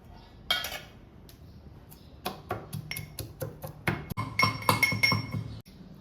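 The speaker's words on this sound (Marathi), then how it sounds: "खलबत्त्यात हे सगळं साहित्य ठेचून घेते" Two chilies and spices are pounded in a mortar and pestle, making a series of sharp, irregular knocks and clinks close by, with no talking.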